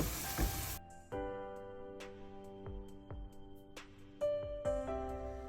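A vegetable stuffed roti cooks on a hot pan, giving a soft, steady sizzle with a few light clinks and scrapes, close and fairly quiet, with no one talking.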